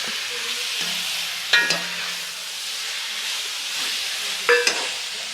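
Ginger garlic paste frying with tomatoes and curry leaves for a Kerala-style roasted-coconut chicken curry: a soft continuous sizzle in a pan, broken by two brief clanks of a spoon against the vessel.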